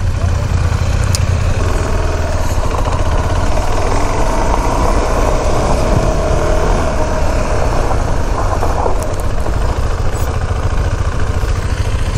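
An adventure motorcycle runs through a front brake braking drill at a riding training course, its engine rumbling steadily up close, with a voice speaking over it.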